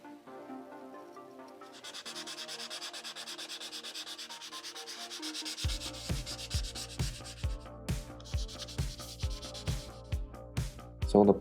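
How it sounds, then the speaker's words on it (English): Sandpaper rubbing over small wooden ship model parts, first a steady close scrape, then quick rhythmic back-and-forth strokes with distinct repeated pulses, no speech. "I will start preparing the components and sand them down if needed"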